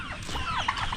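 Turkeys calling at a Filipino farm feast with lechon, a dense run of overlapping gobbling and clucking fowl calls, close and steady throughout with no talk.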